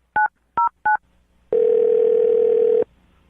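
A telephone dials with three quick, clean keypad beeps, then a single long ring tone sounds for an outgoing call and cuts off, all close and clear.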